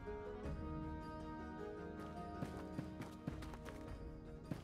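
Horse hooves clopping in the tavern game Tavern Manager Simulator, soft repeated hoof strikes over a steady background music bed, fairly faint.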